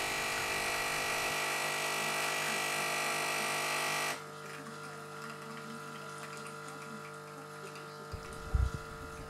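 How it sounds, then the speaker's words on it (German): Two Nespresso machines brew coffee from refillable Coffeeduck capsules, a loud pump hum with trickling flow that abruptly drops to a quieter drip, followed by a brief clatter near the end. "Der Kaffee läuft bei beiden Maschinen relativ flüssig aus der Maschine."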